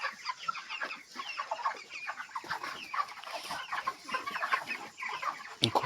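A flock of healthy, well-grown broiler chickens, each about 2.7 kg, clucks busily and continuously, with overlapping close calls throughout and no talking.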